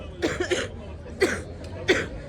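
Three close, raspy coughs in quick succession, the first a double burst, followed by two single hacking coughs with brief pauses between.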